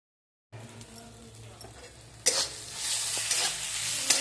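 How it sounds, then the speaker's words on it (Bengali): Leafy greens frying in a pan, a steady close sizzle that jumps louder about halfway through and keeps crackling to the end. "দেখো এখানে শাকটা ভাজা হচ্ছে"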